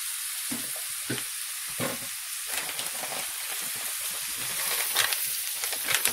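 Lumpia filling sizzles steadily in a hot frying pan while being stirred, a continuous close hiss with scraping stir strokes and no talking.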